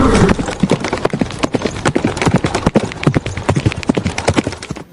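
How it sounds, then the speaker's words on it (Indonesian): The hooves of a horse pulling a delman carriage clip-clop in a brisk, steady rhythm of sharp, loud hoofbeats that continues unbroken from start to finish. "Ada kuda delman."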